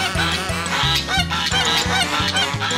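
A cartoon duck fleeing in a musical cartoon, with rapid repeated honking quacks in a steady rhythm, about a dozen loud close calls over bouncy music, with no talk.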